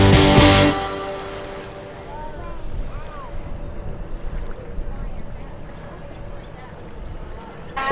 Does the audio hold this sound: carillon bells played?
no